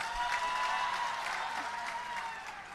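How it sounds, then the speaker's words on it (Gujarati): A crowd at a political gathering claps for Chaitar Vasava, with Gopal Italia present, in dense, sustained applause that carries evenly and eases slightly at the close. "એવા ચૈતરભાઈ માટે જોરદાર તાળી થઈ જાય"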